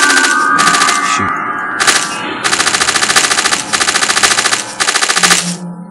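Rapid automatic gunfire in the video game Cyberia 2, loud and close, coming in several sustained bursts of fast repeated shots with short gaps between them.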